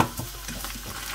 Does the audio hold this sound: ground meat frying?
yes